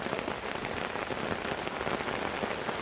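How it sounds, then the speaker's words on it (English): Rain pours down steadily as a dense, even hiss of drops on surfaces outdoors, continuous and fairly near with no speech. "the rain would have been pouring down this way"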